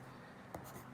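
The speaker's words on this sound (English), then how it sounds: "go ahead and write that word" A pen or marker writes a word on paper, giving a faint, brief scratch with a couple of quick strokes against a quiet room background.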